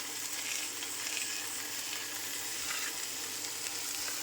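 Paneer pieces coated in oil fry in a pan, a steady, even sizzle that holds at one level throughout with no voices.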